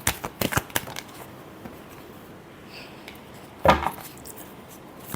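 Tarot cards are shuffled close by in a quick flurry of crisp riffling snaps at the start, then soft handling noises and one sharper slap midway.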